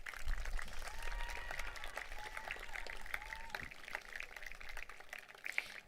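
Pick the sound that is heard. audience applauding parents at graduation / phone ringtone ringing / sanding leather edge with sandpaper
audience applauding parents at graduation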